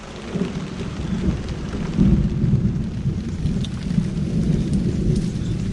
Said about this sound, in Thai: ฝนพายุมาเลย